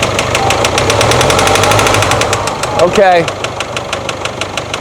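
A car engine, in a check for blow-by with black oil, idling and revved a little, giving a steady rhythmic knocking engine drone with a short whining sweep near the end, and a voice speaks briefly over it.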